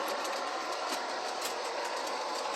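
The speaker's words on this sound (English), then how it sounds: "We'll bring the train" A model train runs along its track on a layout with a troublesome switch, giving a quiet, steady rolling hum with light repetitive clicking from the wheels, heard alone without talk.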